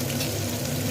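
Onions with salt sautéing in a pan for a Kerala chickpea kurma, a steady close sizzle filling the whole second with no talk.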